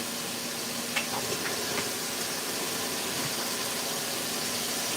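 Kielbasa sausages brown in a dry saute pan with no oil, giving a steady, even sizzle throughout, with a few faint utensil taps near the start.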